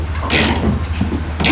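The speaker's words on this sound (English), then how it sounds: "So now I'm going to tighten this because I'm going to expand it." Wrench tightening a bolt on a mini hotrod engine, two short bursts of ratchet clicking separated by a pause, close and fairly loud over a steady low hum.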